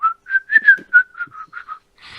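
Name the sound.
person imitating whistling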